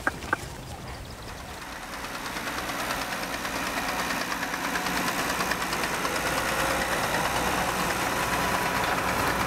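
A tractor engine runs steadily in a cotton field in Pakistan, a continuous mid-pitched rumble with a knocking texture that grows slightly louder, with no talk over it.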